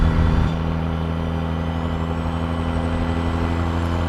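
A Peterbilt truck with a tuned 800 hp Cat C16 engine and 8-inch straight pipes rumbles loudly at a steady deep idle close by, with a brief heavier burst at the start.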